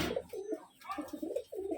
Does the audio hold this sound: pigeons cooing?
yes